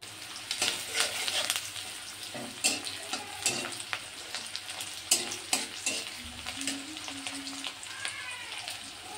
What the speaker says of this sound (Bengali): বন্ধুরা এই যে মাছগুলো ভাজা হয়ে গেছে, এই যে এটা মাছের ডিম, আর এই যে মাছ রুই মাছ